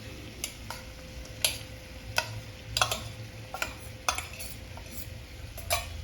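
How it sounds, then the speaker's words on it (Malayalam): A utensil stirs paneer through a pan mixture for a side dish for chapati and fried rice. It makes sporadic light clicks and scrapes against the pan at an irregular pace, close and fairly quiet over a low background hum. "ഇതൊന്ന് നന്നായിട്ടൊന്ന് മിക്സ് ചെയ്യട്ടെ"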